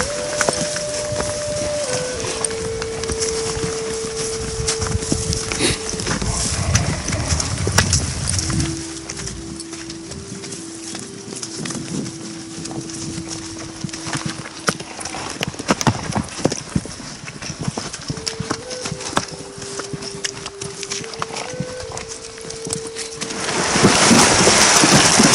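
Horses walk along a trail ride in Colorado, hooves clip-clopping in an irregular rhythm over steady rain-like background noise, with a faint tonal hum drifting in the background.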